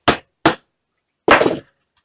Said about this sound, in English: Put a screw into the T-nut, thread it in deep enough, and then just drive it out.